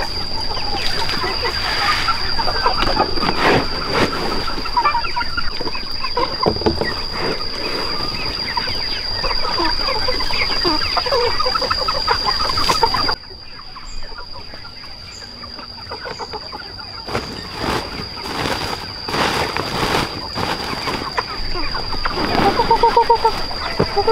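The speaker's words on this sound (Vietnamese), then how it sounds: "Nhớ bắt con gà, ôm con gà chuồng." Chickens clucking on a rural farm, repeated bursts of clucks and calls close by over steady background noise with a high constant whine, a brief quieter stretch midway.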